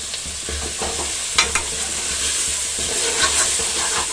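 Ingredients frying in a pan for a Tamil ghee rice and dalcha meal, stirred with a ladle, giving a constant close hiss of oil with a few scraping strokes and no speech.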